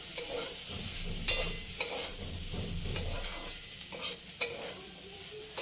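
Masala sweet corn with pepper and lemon juice is stirred in a frying pan, soft sizzling running throughout with scraping strokes and a few sharper clinks of the spoon against the pan, close and fairly quiet.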